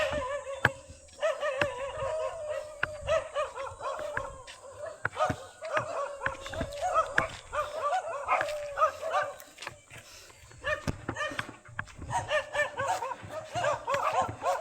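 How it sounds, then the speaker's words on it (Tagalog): Several dogs on a roof bark and yip repeatedly at close range, a busy overlapping chorus with brief pauses between bursts. "tahol kayo ng tahol ah"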